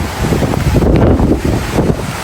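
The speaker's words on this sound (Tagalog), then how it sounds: "malakas po at mataas po ang alon" Strong, high ocean waves and wind at sea off Camarines Norte, heard as a loud rumbling wash of water with heavy wind buffeting the microphone throughout, close and continuous with no speech.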